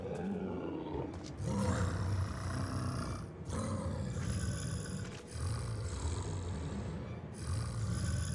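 A beast from Final Fantasy XIV lets out a series of deep, growling roars, several long rumbling bursts separated by brief pauses, loud and close without speech.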